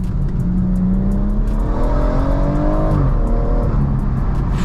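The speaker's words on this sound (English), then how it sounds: "Definitely one of the best sounding engines BMW have made." A BMW M140i Shadow Edition straight-six engine revs and accelerates from the driver's seat on a night drive, its rising harmonics climbing steadily and loudly over constant road and tyre roar, then easing off.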